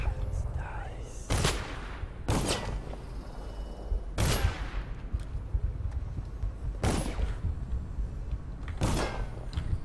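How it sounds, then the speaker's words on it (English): Guards in the stealth game Dishonored fire at rats, producing five loud, sharp gunshot bursts spaced a second or two apart, close and echoing, over a steady background rumble. "Oh, they're shooting at the rats"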